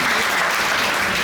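Loud, dense applause from a crowd at a political gathering in honour of a woman official, steady clapping filling the whole moment without a break.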